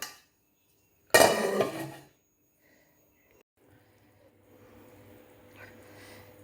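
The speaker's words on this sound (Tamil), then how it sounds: "இதை மூடி போட்டு மூடிடலாம்" A single metallic clank as a lid is set onto a cooking pot, ringing briefly before fading into near silence.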